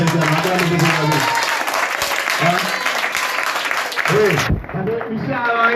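A church congregation applauds and cheers in praise of Jesus, continuous loud clapping and voices filling the room for several seconds, with a preacher talking over it before the sound drops away briefly near the end.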